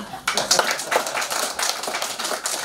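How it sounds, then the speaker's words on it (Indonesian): A crowd at a political campaign rally in Manggarai, Indonesia claps steadily together, a dense patter of many hands with a few voices mixed in. "Tepuk tangan dulu."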